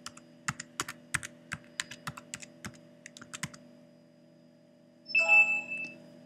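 Computer keyboard typing in a quiet room: a run of irregular, crisp key clicks over about three and a half seconds, followed by a short electronic ringtone-like chime.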